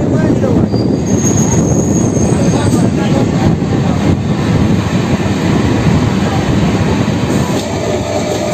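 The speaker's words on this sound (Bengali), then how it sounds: "দেখতে পাচ্ছ বেলুর স্টেশনে ট্রেন ঢুকছে এখন" A Howrah–Bandel local train pulls into Belur station with a loud, continuous rumble and clatter of wheels on track, a thin high squeal riding above it, recorded from on board.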